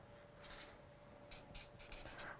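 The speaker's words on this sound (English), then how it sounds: "So I'll write it on here." A pen writes colour codes onto a piece of swatch card in an art studio, with one short scratch, then a quick run of close, quiet scribbling strokes.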